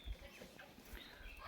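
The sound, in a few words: hen clucking while walking around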